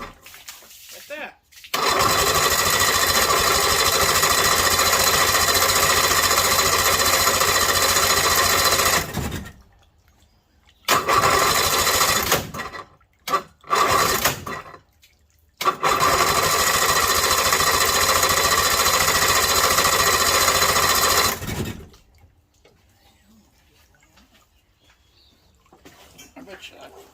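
A 1956 Evinrude Lark outboard motor cranks and runs in loud, buzzing bursts, cutting out several times with brief silences before catching again, then falls quiet near the end.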